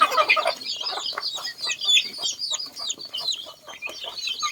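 Domestic village chickens cluck continuously on a small family farm in Laos, several birds close by producing a busy, overlapping chatter with no talking.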